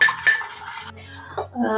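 A spoon clinks and scrapes against a bowl a few times, close and sharp, with a soft voice in the background.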